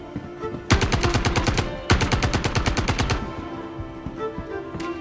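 Two long bursts of rapid automatic gunfire in the space game Star Citizen, each lasting over a second with sharp, evenly spaced cracks, loud and close, then trailing off into faint ambient hum with no talking.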